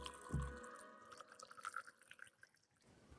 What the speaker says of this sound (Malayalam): അതിനുശേഷം നമ്മൾ ഇതിലേക്ക് വെള്ളം ഒഴിച്ചു കൊടുക്കുകയാണ്.